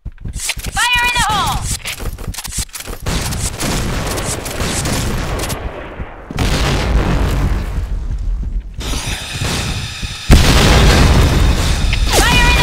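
Explosive booms and gunfire bursts from a Point Blank online shooter match, with a grenade blast among loud, dense combat noise, footsteps and mechanical clatter; a voice speaks over the action.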